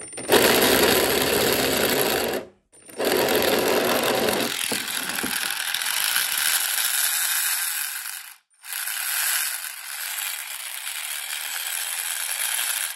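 A 3D-printed suction pump's small motor runs with a loud, buzzing rattle close by, cuts out briefly twice and starts again, its tone turning thinner and higher partway through. No speech.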